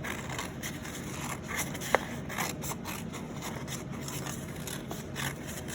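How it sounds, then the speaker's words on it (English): Scissors snipping around a traced shape in folded paper, a soft steady run of small close cuts with one brief sharp click partway through, no talking. "I'm going to hold this shut and I'm going to cut around that shape"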